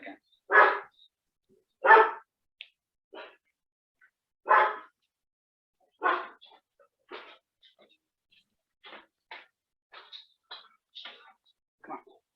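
A dog in an apartment building barks in several loud bursts spaced a second or two apart near the start, followed by fainter, shorter yips and sounds trailing off.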